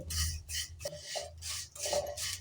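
A spoon stirring vermicelli (shavige) frying in a pan for payasa, soft rhythmic scraping and rustling strokes in short repeated bursts, close and quiet with no talk.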